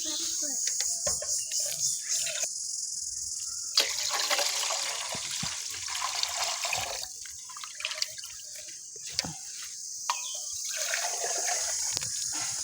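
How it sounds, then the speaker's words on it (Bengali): Water poured into mashed tamarind while making a sweet, sour and spicy fuchka filling, a steady trickling and splashing that runs almost the whole time with small drips, fairly close and continuous. "এখন এর মধ্যে দিয়ে দেবো জল।"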